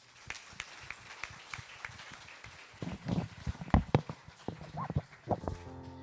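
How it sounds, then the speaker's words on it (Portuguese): A church congregation claps in scattered, uneven bursts that start sparse and grow denser and louder midway, with sharp individual hand claps over a low murmur of room noise. "Vem receber os irmãos com as palmas para o nosso Deus"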